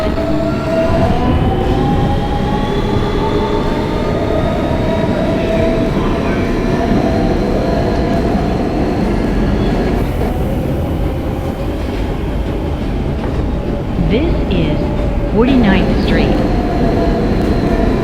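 An R160B Siemens subway car on the New York W line rumbles steadily from inside with clickety-clack wheel noise, then brief wheel squeals near the end.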